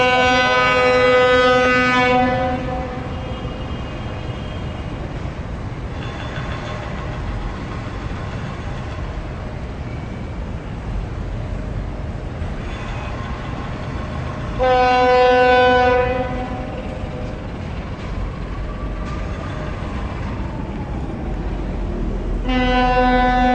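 The Putri Deli U74A passenger train pulling away, with loud blasts of its horn at the start, again midway and near the end over a steady rumble of engine and wheels on the rails.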